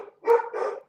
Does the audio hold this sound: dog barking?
yes